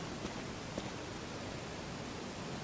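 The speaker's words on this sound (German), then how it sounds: "und da war auch der Wasserfall" A steady, even rush of water fills the whole stretch, a constant broadband roar with no breaks, a waterfall pouring continuously in the video game Resident Evil HD Remaster.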